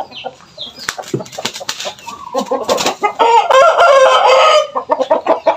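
Several game fowl cluck and a rooster crows loudly nearby, with brief wing flapping amid the busy barnyard calls.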